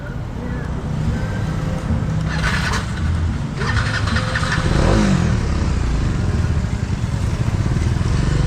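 A Bajaj Dominar 400cc motorcycle on a test ride, its engine giving a continuous loud rumble mixed with wind rush, steady throughout with slight swells, and a voice briefly heard over it.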